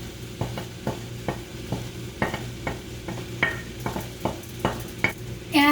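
Edamame and cilantro warming in a pan, a soft steady sizzle broken by repeated scraping and clinking strokes of a utensil stirring against the pan, ending in a louder clatter.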